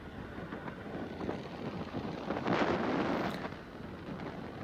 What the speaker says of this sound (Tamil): காற்றும் பார்த்திங்கன்னா பயங்கரமாக அடிக்கும்